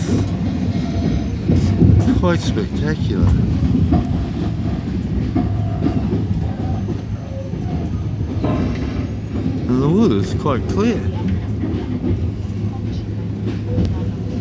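A train in Vietnam, running along the coast toward Da Nang, rumbles steadily on the rails with a continuous low roar and faint rhythmic clatter, while a person talks over the noise.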